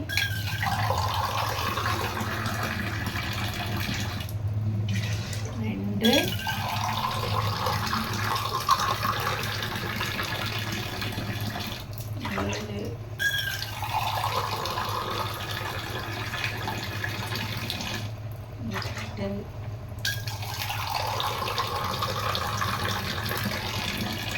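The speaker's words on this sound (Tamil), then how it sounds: "10 கிளாஸ் நான் வந்துட்டு தண்ணி ஊற்றணும்" Glasses of water are poured into a pot of raw rice for cooking, making steady close splashing and gurgling. Several pours follow one another with short gaps between them.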